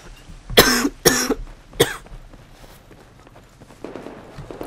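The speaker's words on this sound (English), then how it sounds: "I need to cough." Three loud, close coughs in quick succession, followed by a fainter throat-clearing sound over quiet background noise from a Battlefield 4 match.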